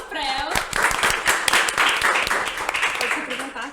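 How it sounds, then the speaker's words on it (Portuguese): A room of people applauding, with dense, rapid claps running steadily for several seconds and voices mixed into the clapping. "Uma salva de palmas pra ela."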